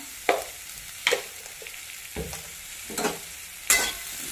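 Bitter gourd stirred with red chili powder in a pan, giving five or six soft scraping strokes over a faint background sizzle, close and fairly quiet.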